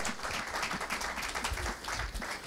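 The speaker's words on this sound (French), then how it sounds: "Clap for the Lord." A church congregation clapping and cheering for the Lord during a sermon, with dense, loud applause that continues throughout and a few voices mixed in.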